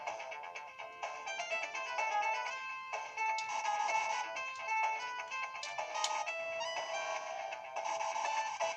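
Synth music from the OutRun game on the Sega Mega Drive plays alone at moderate level: bright, bouncy 1980s chip melodies with layered tones and a steady rhythm.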